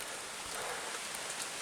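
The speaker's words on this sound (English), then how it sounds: "to kind of get out of the rain a little bit, and not sweat as much" Steady rain patters down over a wooded hiking trail in Kentucky's Red River Gorge, a dense, even hiss heard up close without pause or voices.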